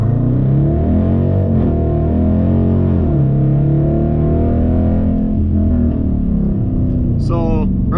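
A 2017 Dodge Challenger R/T fitted with a K&N cold air intake launches hard from a roll with slight wheelspin, its engine roaring loud and steady throughout before a brief higher-pitched whine near the end.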